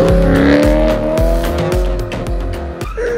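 A BMW M3 E92 with a straight-pipe exhaust drifts around a roundabout, its engine roaring loud and close with rhythmic pulses of throttle while the tires squeal continuously beneath it.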